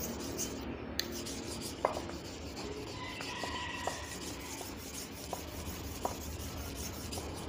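A slaughtering knife is rubbed back and forth on a natural whetstone, a continuous close scraping with a few sharp ticks scattered through it, steady and unaccompanied by talk.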